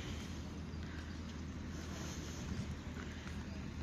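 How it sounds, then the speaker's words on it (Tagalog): Strong wind blows outdoors along a wide road during a sand-laden dust storm, a steady, loud rushing roar that continues without break and with no voices. "Ayan, mahangin. Sobrang hangin."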